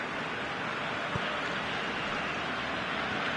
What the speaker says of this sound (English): Well, here is the rain we were told to expect.